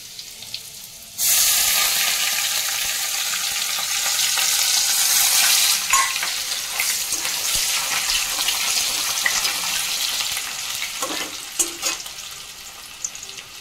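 Crushed garlic cloves and chopped onion hit hot oil in a pan with a sudden loud sizzle that stays dense and steady, then eases slightly as stirring scrapes and a few clinks break through near the end.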